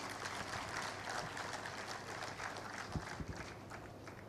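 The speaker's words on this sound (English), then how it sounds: "please, a big round of applause for Mr." A conference audience clapping for Khalil Shaikh at a CFO event, a dense but fairly faint patter of applause heard from a distance, with a few louder thumps near the end.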